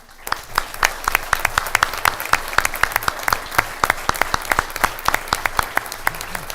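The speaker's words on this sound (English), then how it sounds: "If you could stand up and get a round of applause, that'd be wonderful." An audience at a board of education meeting applauding students, steady close clapping from a sizeable crowd that carries on throughout.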